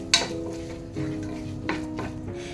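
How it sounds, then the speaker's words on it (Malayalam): Fried rice with chili sauce and soy sauce is stirred in a pan, a few soft scraping strokes of a spoon against metal over a faint sizzle, quiet and close. "ഒരു ടേബിൾ സ്പൂൺ സോയാ സോസ് നല്ലതായിട്ട് അങ്ങ് മിക്സ് ചെയ്യാം"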